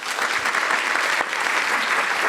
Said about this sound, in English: Please join me in giving a round of applause to our speakers